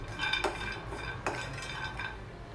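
Coconut, almonds and cashews frying on low heat in a pan for biryani, with a spoon stirring and scraping against the metal in a few sharp clinks over a soft steady sizzle.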